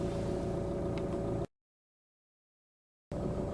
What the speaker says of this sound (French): Ah, ça y est, le moteur il tourne normalement